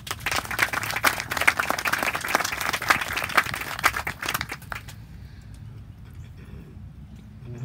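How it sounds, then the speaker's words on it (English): Audience applause at an outdoor recreation center ground breaking ceremony, lively crisp clapping from a moderate crowd that builds for about five seconds and then fades out, leaving quiet ambience. "Let's give a big round of applause to Mr."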